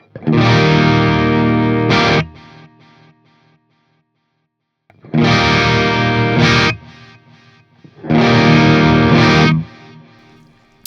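Electric guitar through a Synergy Syn20IR preamp with a Morgan AC module, distorted chords with chorus and echo ringing in three separate bursts, each sustained a couple of seconds before cutting off, loud and close.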